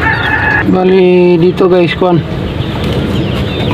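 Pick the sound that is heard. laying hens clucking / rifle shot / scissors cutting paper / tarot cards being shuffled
laying hens clucking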